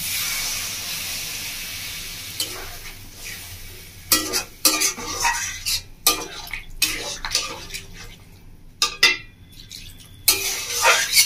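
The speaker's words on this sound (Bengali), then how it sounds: "এবার আমি দিয়ে দেবো এর মধ্যে জল।" Water poured into bhindi masala, okra fried in spiced masala in a pan in a Bengali village-style kitchen, gives a steady sizzling hiss that breaks into loud, irregular bursts of spattering and clattering against the pan.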